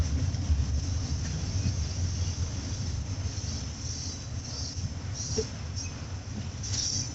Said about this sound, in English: It's a mixed train here.